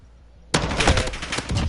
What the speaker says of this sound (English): Oh, and the wall bang.